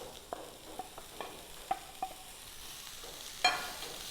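A pan of prawn and long bean thoran is stirred while it fries, with a soft continuous sizzle under scattered sharp scrapes and clicks of the spoon against the pan, close and moderately quiet.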